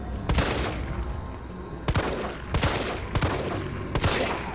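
Gunfire in the video game Resident Evil 3: four loud, close, booming shots spaced about a second apart over a dense background of game noise.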